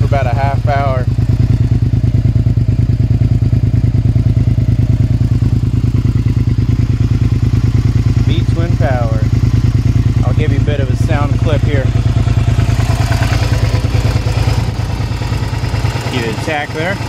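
A warmed-up 2005 Suzuki SV650S motorcycle engine runs close by at a steady throbbing idle for the whole stretch, loud and even, while someone talks intermittently over it.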